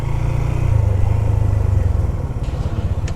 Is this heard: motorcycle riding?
yes